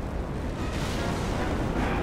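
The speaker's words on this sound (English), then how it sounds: "I've got to try and predict where the explosions are" Continuous roaring, rumbling blasts aboard a collapsing space station in a Star Trek video game, loud and dense with no clear gaps between them.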